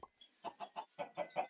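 Chickens in the video game Minecraft give a quick run of about seven rhythmic clucks, evenly spaced and fairly quiet, with no other sounds around them.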